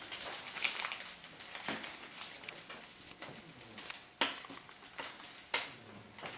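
Butter and olive oil sizzle in a pan with a soft, steady frying hiss, broken by a few light clinks and sharper crackles.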